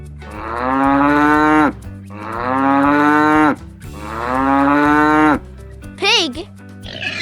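A cow moos three times in long, loud, drawn-out calls, each separated by a brief pause, followed by a short rising and falling squeak, with steady music underneath.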